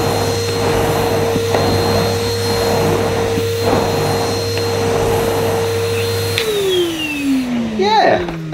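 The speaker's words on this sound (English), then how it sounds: "Let's give it a go with a new nozzle. We'll start off on reduced suction." A Numatic Henry 180 Plus vacuum cleaner fitted with a new nozzle drones steadily on reduced suction, loud and close with a constant whine, then winds down in pitch near the end.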